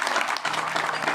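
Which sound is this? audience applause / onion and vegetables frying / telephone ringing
audience applause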